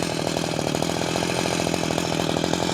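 A chainsaw runs at a steady, loud pitch close by, droning continuously without pause or any talking.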